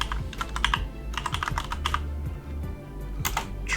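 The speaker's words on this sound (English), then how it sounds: "So let's go ahead and type in business" Typing on a computer keyboard, a quick irregular run of close, crisp key clicks and taps going on steadily for several seconds.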